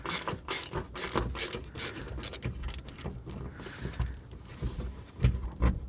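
T25 screws being backed out of the underbody noise panel on an Audi SQ5 3.0L turbocharged V6, close repeated ratchet clicking in quick bursts with short pauses and small clanks between them.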